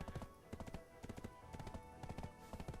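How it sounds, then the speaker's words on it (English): Horse hooves clip-clop in a steady, quick rhythm in a video game, close and fairly quiet, with no talk over them. "Let me catch this little horsey"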